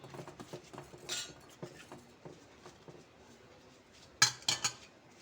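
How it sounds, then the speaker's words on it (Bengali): A spoon stirs milk in a pot, making light, quick metal clinks and scrapes that come close together. The sound is fairly quiet until a few sharper, louder clatters near the end. "তো দুধটাকে দিয়ে আমি খুব চামচ দিয়ে ভালোভাবে নেড়ে চেড়ে মিশিয়ে নেব"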